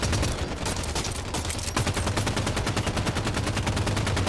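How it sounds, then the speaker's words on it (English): Rapid automatic gunfire in a multiplayer shooter video game, a loud, dense rattle of bursts that settles into a steady, fast rhythmic stream of shots. "Open fire!"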